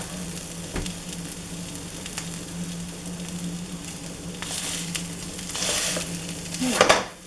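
Food frying in a pan gives a steady low sizzle with a constant hum underneath and occasional stirring scrapes, ending in a louder burst near the close.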